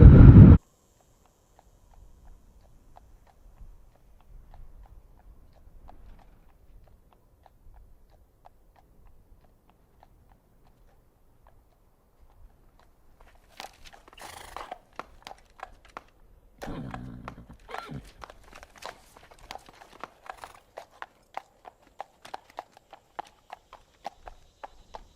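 A horse walks on a street, its hooves giving a sparse, irregular clip-clop that grows busier and closer in the later part, after a long stretch of near quiet.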